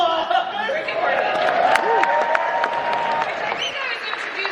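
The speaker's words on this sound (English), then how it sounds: "Wait for applause" Audience applause and cheering fill a Comic Con panel room for Star Trek: Lower Decks, a dense steady wash of clapping with crowd murmur and voices mixed in throughout.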